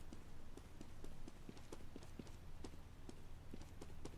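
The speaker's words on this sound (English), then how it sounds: "you guys can hear the wonderful sounds of the footsteps" Footsteps of a character in a Roblox obby game, a steady run of quick, evenly spaced hollow clopping steps, faint and continuous over a low background hum, with no talking.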